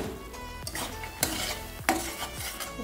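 A spoon stirs spiced masala with green peas in a cooking pan, scraping and clinking against the metal in uneven strokes over a soft steady sizzle, close and fairly loud.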